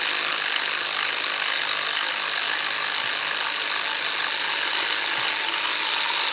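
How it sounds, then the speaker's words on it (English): Screws come out of a bracket on a GM LS3 V8 engine during a teardown, producing a dense, continuous rasping, ratcheting clatter that stays loud and steady throughout, with no voices. "now I'm gonna remove the screws for this bracket"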